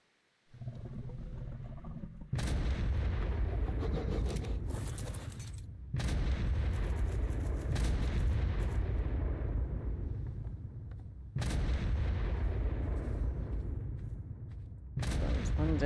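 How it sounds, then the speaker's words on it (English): Loud, overlapping explosions roar almost without pause during a video game boss fight, heavy booming bursts that briefly drop out and then crash back in. "Get rid of some of this frickin' explosions going on."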